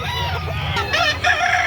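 A bulik gamefowl rooster, football-sized with a red face, crows loudly nearby in a rising, wavering call, with scattered clucks from other fowl around it.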